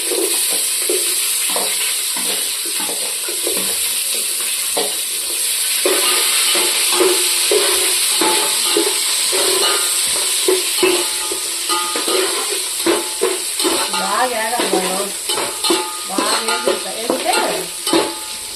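Chopped onions and green chillies frying in a pot for chicken biryani, a steady close sizzle broken by repeated scraping and stirring strokes, with no talking.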